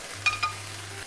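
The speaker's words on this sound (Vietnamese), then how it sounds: "Rồi mình đem xào tới khi nào nó khô, nó bong lên rồi là sẽ xong." Small pieces of meat stir-frying in a pan with soy sauce and salt give a soft, steady sizzle with a couple of brief scraping stirs over a low background hum.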